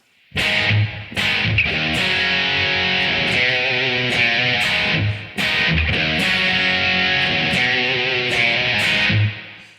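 A distorted electric guitar plays the chorus riff, loud sustained chords with sharp picked attacks, a brief break near one second and another around five seconds, ending abruptly.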